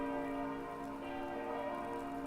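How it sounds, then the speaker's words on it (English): Church bells ring in a steady, sustained wash of overlapping tones, moderately loud and continuous with no voices. "So that's like church bells."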